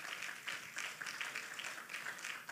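Applause from a church congregation during a Spanish-language sermon, steady clapping spread across the room at a moderate, fairly distant level with no talk over it.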